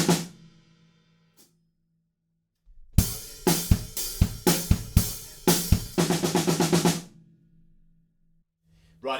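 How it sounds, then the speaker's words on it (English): A drum kit plays the pre-chorus of a song, a sharp run of snare hits building into a fast snare fill, then ringing to silence, with a faint tap before and a hit at the end. "we have a tiny little pre-chorus bit, which has a snare drum fill in the second bar"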